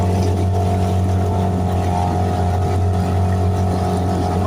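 Motorboat droning steadily on a lake, a constant, fairly loud engine hum with no change in level through the clip.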